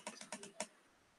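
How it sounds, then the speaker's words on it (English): Quick bursts of typing on a computer keyboard, about six close, light key clicks in an uneven rhythm, then quiet. "I'm busy typing."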